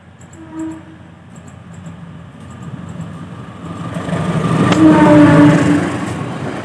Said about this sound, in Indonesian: kereta api Pasundan akan melintas langsung di jalur 1 stasiun Inhiang.